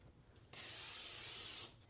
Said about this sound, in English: I am going to spray my dish first.